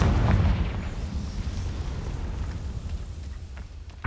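Confringo fire spell from Hogwarts Legacy, cast in a combat sequence: a heavy booming explosion opens loud and close, then rumbles and decays into a low roar, with a sharp hit at the very end.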